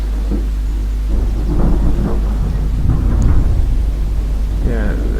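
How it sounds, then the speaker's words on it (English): Thunderstorm ambience effect in the landscape app Flowscape, low rumbling thunder with rain noise under a deep steady hum, with muffled voice-like sounds over it. "We could even add thunderstorm."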